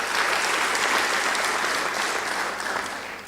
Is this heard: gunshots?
no